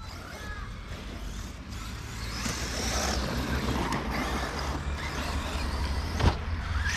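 An Arrma Big Rock RC car drives nearby, its electric motor giving a steady whine with gravelly rumbling from the tyres that swells slightly midway, with a sharp click near the end.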